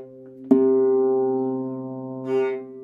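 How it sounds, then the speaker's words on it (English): Harp string struck by a tentatively placed finger, giving a sharp pluck followed by a sustained ringing tone that fades, with a brief soft buzz near the end. "that's the sound of my finger tentatively going towards the string"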